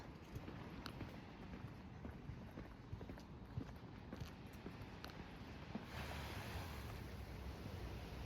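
Sea waves wash at the harbour of Port de Sóller, Mallorca, a steady, distant surf hiss with faint clicks and footsteps mixed in, swelling slightly louder toward the end.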